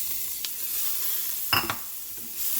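Green chilies and ginger garlic paste sizzling in an Instant Pot, a soft steady hiss with a couple of brief sharper crackles and clinks near the middle, no voices.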